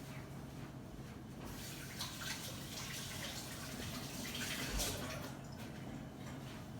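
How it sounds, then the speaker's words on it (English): Running tap water splashes over hands at a kitchen sink during rib preparation, a steady broadband wash with faint drips and small surges, fairly quiet and close, with no talking. "let me wash my hands really quickly"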